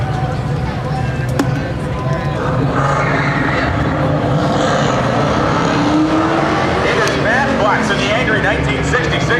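A Ford Mustang races around an autocross course at a car show, its engine roaring and revving loudly and continuously under a commentator talking over a public address system.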